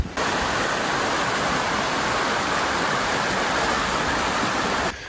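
Steady broadband rush of a river flowing in a Balkan town, a constant loud wash of water with no breaks.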